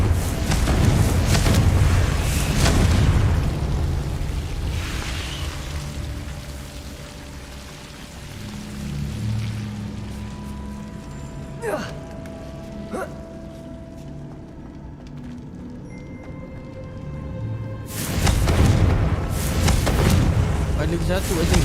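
Blasting spell explosions in Hogwarts Legacy, with loud rumbling bursts at the start and again near the end, quieter game ambience and sharp impacts in between, and a voice speaking briefly.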